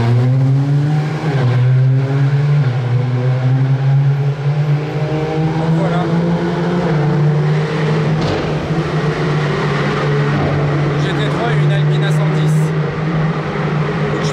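Modified supercars, including Lamborghini Aventador SVs, accelerating out of the Monaco tunnel, a loud, echoing engine roar with rising and falling revs that holds steady over the whole stretch, with someone speaking over it.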